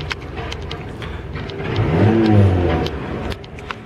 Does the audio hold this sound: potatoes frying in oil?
no